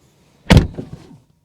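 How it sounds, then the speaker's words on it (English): A 2020 Aston Martin Vantage door gives a single solid thunk close by, then a softer trailing rattle and latch settle that fades within a second, with quiet before and after. "Door open and close sound on an Aston Martin Vantage."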